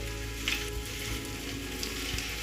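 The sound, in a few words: potatoes and fenugreek leaves stirred and frying in a pan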